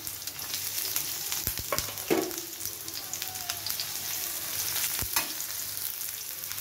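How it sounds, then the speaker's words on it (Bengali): Chopped onion fries in oil in a wok with a steady, crackling sizzle, punctuated by a few sharp clinks and scrapes of a spatula stirring, close and continuous. "ব্রাউন কালার করে ভেজে নিব।"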